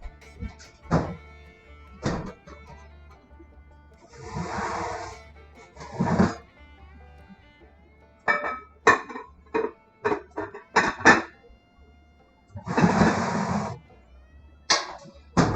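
A lid set onto a pot of oven-baked chicken and rice casserole gives a few sharp thunks and clanks of cookware, scattered with pauses between them, close and fairly loud in an otherwise quiet kitchen.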